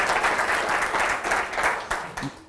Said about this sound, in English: Can I invite you to give your warmest Toledo applause to Werner Pfeiffer.